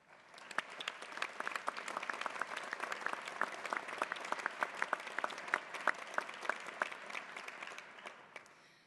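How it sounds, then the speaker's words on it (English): Scattered audience applause at a university winter commencement ceremony, many individual claps rising quickly into a steady, moderately distant patter that tapers off at the end. "Please join me in thanking those individuals in attendance today with a round of applause."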